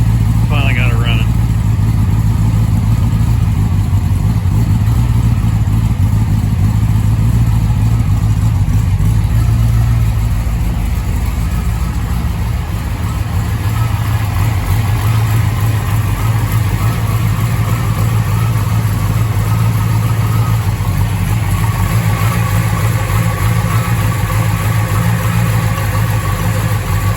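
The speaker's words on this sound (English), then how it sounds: "Okay, the car is running." Foxbody Thunderbird with a Trickflow 5.0 V8 runs loudly and close by, holding a rough, steady idle with a slight dip in level partway through and no obvious sharp revs.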